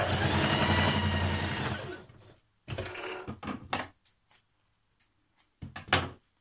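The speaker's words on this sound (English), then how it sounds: "Now stitch your facing pieces of the waistband together." A sewing machine stitches waistband facing pieces together for Simplicity 8701 jeans in a loud, steady two-second run, followed by scattered clicks and short bursts as the fabric is handled, close and without talk.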